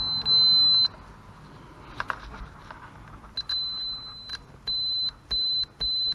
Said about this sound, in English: you're going to put the setting continuity check, which is going to be what it should sound like this.